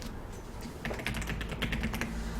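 Computer keyboard keys tapped in a quick run alongside mouse clicks while working in an Excel spreadsheet, the clicking growing busier after the first second, close and moderately loud with a steady low hum underneath.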